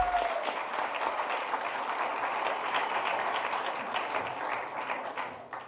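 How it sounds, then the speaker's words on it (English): Audience applause at a story slam, a sustained wash of many hands clapping that stays steady and loud throughout before easing slightly at the end. "Give a hearty round of applause to Matt Burgan."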